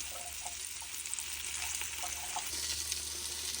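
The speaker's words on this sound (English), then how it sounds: "I'm just cooking up this meat here" Beef cubes for a stew frying in a pot, a steady, close sizzle with soft crackle and no talk over it.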